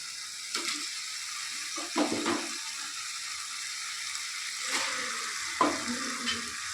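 Chicken pieces are stirred into a frying spice masala, with an ongoing sizzle broken by scraping, clattering stirs at irregular moments and no voices.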